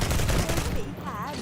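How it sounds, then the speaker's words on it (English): A rifle fired left-handed lets off a dense burst of rapid shots, loud and close, which then gives way to a voice speaking over a lower background. "What rifle is he shooting left-handed?"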